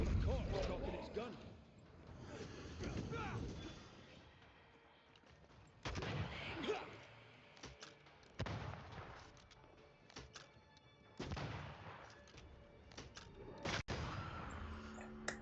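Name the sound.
gun sounds in video game Banishers: Ghosts of New Eden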